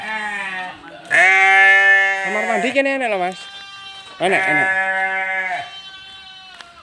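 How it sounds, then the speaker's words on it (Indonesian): Sheep being rested before transport bleat loudly and close by, two long wavering cries separated by pauses, while someone speaks at the start and between the calls. "ini lagi mengistirahatkan domba-domba WBR yang mau kirim jalur barat"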